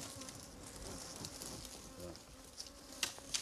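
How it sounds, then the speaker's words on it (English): Honeybees swarm around a removed hive, their steady buzzing filling the air at close range with a few louder passes near the end and no talk. "bees, which were foraging when the hive was removed, are returning"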